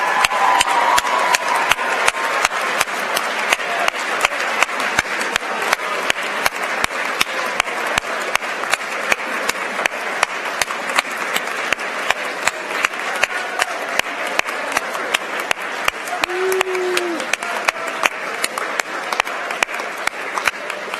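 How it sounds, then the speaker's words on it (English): A ceremony audience gives the graduating class of 2017 at an awards event a long round of applause, crisp individual claps merging into a steady, close, unbroken wash. "let's give them a big round of applause"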